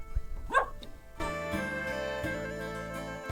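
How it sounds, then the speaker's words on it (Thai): Dog barking at a passing motorbike in a remote mountain village, a few sharp close barks at first, then the loud steady drone of the vehicle engine passing nearby. "หมาเห่ารถ"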